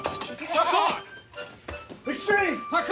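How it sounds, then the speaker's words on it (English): Baby goats bleat in quick, wavering calls close by, several overlapping cries in bursts with short gaps between them, against light background noise. "These baby goats turns poor Mr. Turtle into their trampoline"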